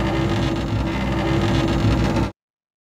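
A toothbrush rattling inside a metal filing cabinet gives a dense, continuous metallic clatter, loud and close, sustained for about two seconds before cutting off abruptly, with no talking.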